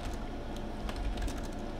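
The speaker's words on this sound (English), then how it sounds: "Having a hard time typing." Rapid, soft clicking of computer keyboard keys in an irregular, somewhat halting typing rhythm, close by over a steady low hum.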